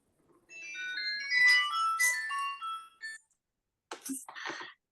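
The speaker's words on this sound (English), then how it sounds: "I'm on call today, so this phone is ringing a lot." A mobile phone rings with a melodic electronic ringtone for about three seconds during an online medical conference call, then a voice starts speaking.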